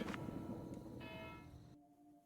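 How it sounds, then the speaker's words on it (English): Distant alarm bell in the video game Timemelters, faint metallic ringing tones over a low ambient drone, fading out near the end with no talk. "I hear Lance Storm's alarm bell ringing in the distance."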